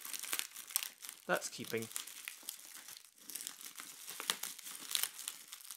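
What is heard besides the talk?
cutting apart clear packing tape on a box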